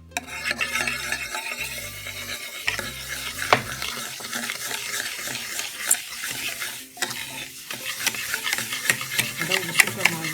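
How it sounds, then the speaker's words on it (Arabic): Eggs and sugar being whisked in a bowl for a strawberry jelly cake, a steady rapid scraping and clinking of the whisk running continuously, close and fairly loud with no talk. "هدوب السكر مع البيض كده"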